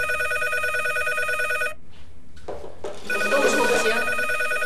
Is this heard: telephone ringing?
yes